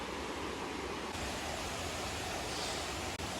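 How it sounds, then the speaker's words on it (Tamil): Steady, dense rushing water roar from Koraiyar Falls in a forest, filling the whole clip at a constant level, like a waterfall not far off, with no voices. "வாட்டர் ஃபால்ஸோட சவுண்டு அதிகமாக கேட்குது."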